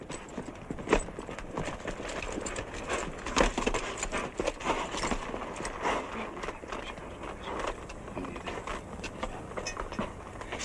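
Horse hooves clip-clop in a quick, uneven rhythm, several sharp knocks each second, fairly close and continuing throughout.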